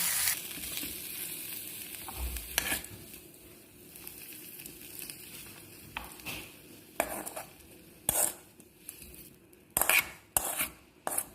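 Mushroom curry ingredients fry in a pan with a soft, steady sizzle, broken by intermittent scrapes and sharp clinks of a utensil against the pan that grow more frequent toward the end. No one speaks.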